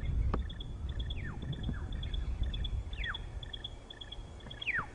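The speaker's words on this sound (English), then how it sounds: "Sterling's wren warbler making that noise." A Stierling's wren-warbler calls on a safari game drive, repeating short high chirps and quick descending notes over a low rumble of vehicle and bush ambience.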